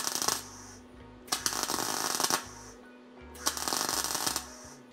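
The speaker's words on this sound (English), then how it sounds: "Let's try and weld this thing together." A thin Honda CB 400 motorcycle fender under a welder comes through as three bursts of loud crackling, sputtering buzz, each about a second long with short pauses between, close to the mic and with no talking.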